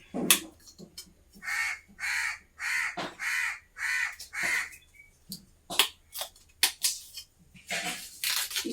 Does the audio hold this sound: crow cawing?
yes